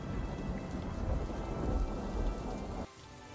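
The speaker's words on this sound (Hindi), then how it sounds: "बारिश काफी तेज पड़ रही थी और आसमान में काले बादलों के साथ तेज तेज बिजली कड़क रही थी" Heavy rain pours steadily at night with a deep rumble of thunder rolling underneath, then the roar drops off abruptly near the end.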